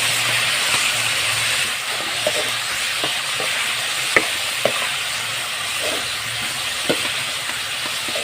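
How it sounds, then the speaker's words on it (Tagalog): Salagubang beetles sauté with chili in a pan, giving a steady loud sizzle and hiss with scattered clacks of stirring, close and continuous, with no voices. "So, igisa lang po natin ito ng mga 5 minutes mga kaibigan."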